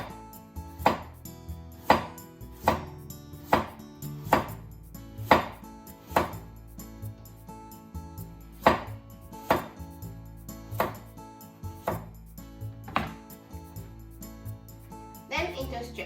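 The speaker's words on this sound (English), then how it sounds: "So make diagonal slices first." A knife cuts an ingredient for hijiki nimono into thin diagonal slices on a cutting board, about a dozen crisp, evenly spaced chops in a steady rhythm, close and clear.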